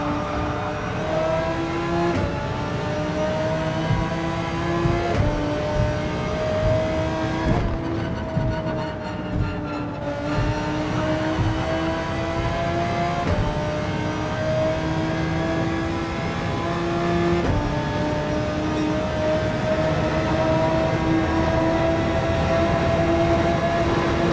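Race car engine in Gran Turismo 7 at night on a Tokyo circuit, a steady sustained drone with shifting pitch as the car is driven carefully through corners, no voices.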